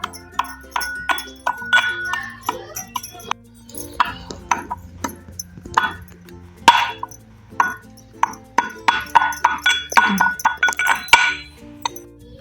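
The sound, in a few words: pounding cumin seeds and salt in a stone mortar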